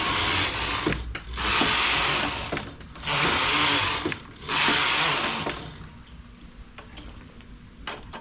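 A knitting machine's carriage sweeps across rows of a ribbed collar with 100 stitches, making three loud rattling, clattering passes at a regular pace, followed by quieter mechanical clicks.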